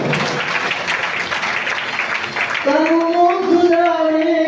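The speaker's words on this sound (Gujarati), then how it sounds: "જોરદાર તાળીઓથી વધાવો" Loud audience applause fills a Shrimad Bhagwat katha gathering in Nakhatrana, Kutch, a dense burst of clapping that fades after a few seconds as a sustained voice or music takes over.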